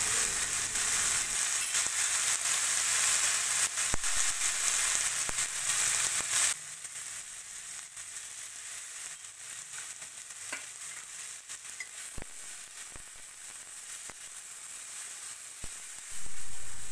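Onion, ginger, garlic and cumin fry in ghee, a bright, loud sizzle for about six seconds that drops to a quieter crackle with a few soft clicks of stirring.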